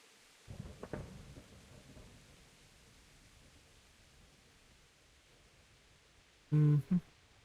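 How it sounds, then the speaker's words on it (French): Steady rain hiss in the video game Kingdom Come: Deliverance, with a low thunder rumble early on, then two abrupt loud knocks near the end. "Ah mais il pleut tout le temps dans ce jeu, c'est fou."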